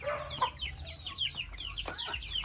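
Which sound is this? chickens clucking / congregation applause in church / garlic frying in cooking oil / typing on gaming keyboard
chickens clucking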